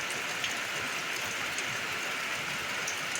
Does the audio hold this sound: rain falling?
yes